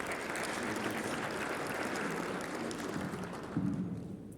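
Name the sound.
applause at insurance conference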